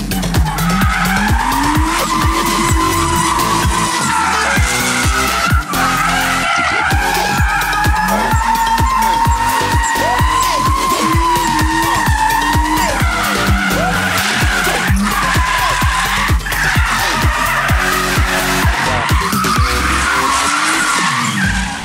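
Nissan Laurel on a drift run, tires skidding and squealing continuously over a loud, revving engine that rises and falls through the whole run, close and sustained with no talk.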